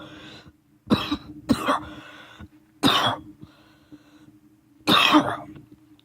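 Harsh, bursting coughs from a man who is coughing up blood, several separate fits spaced over a few seconds, close and fairly loud with quiet gaps and a low background hum between them.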